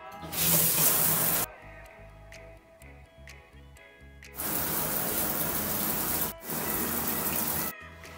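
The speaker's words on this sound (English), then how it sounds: "I'm gonna start off with the shower." A shower runs with a loud, hissing spray of water in two long stretches, broken by quieter gaps in which ticking and a faint background hum can be heard.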